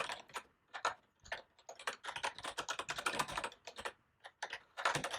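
Brisk clicking of a computer keyboard as code is typed, bursts of rapid keystrokes separated by short pauses, close and clear with no talk.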